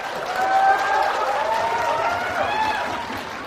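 Audience at a debate on Islam versus atheism applauding, a dense steady wash of clapping that swells early and holds evenly, with a faint voice heard through it.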